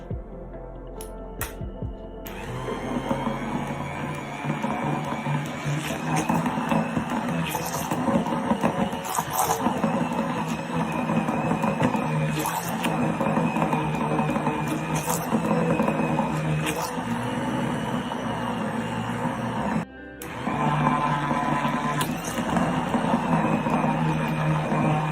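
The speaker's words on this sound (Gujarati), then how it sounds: "બ્લેન્ડરથી આપણે એને બ્લેન્ડ કરી લઈશું." Dhokla batter whirring in an electric blender, a steady dense motor drone running almost continuously for about twenty-five seconds, with a brief cut near the start and another around twenty seconds.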